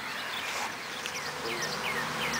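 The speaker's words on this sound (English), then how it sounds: "We saw the swarm come out about noon and it landed up again as high as it could get." A swarm of honey bees gives off a continuous, dense buzz with individual bees droning past close by, rising and falling in pitch over a low outdoor hum.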